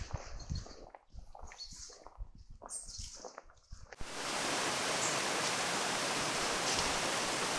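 An autumn woodland stream at a bird reserve rushes steadily, a loud, even wash of flowing water that comes in abruptly after a few seconds of nearby rustling and footsteps.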